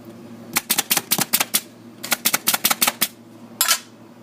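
Rapid bursts of sharp mechanical clacks, two quick runs of repeated staple-gun shots tacking upholstery fabric onto a seat, then a single longer hiss-like snap at the end.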